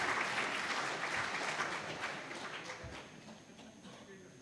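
Audience applause at an IIT Kanpur Teachers Day event, a dense burst of many hands clapping that gradually thins and fades over a few seconds.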